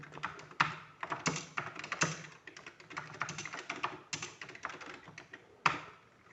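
Rapid, uneven keystrokes on a TI-99 computer keyboard while a program is typed in, with close clicky taps in bursts and occasional harder strikes, no talking.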